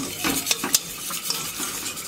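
Flour roasting in a pan while being stirred, heard as brisk scraping strokes and a few metallic taps of a spoon over a soft, steady hiss. Short, close and without talk.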